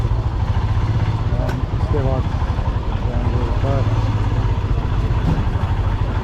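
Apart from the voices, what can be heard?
motorcycle engine idling before parking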